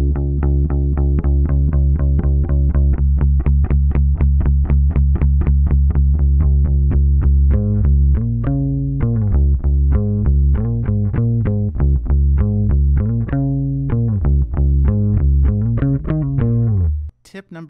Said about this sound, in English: tip number one for achieving this sound would be to use a light palm mute technique on your bass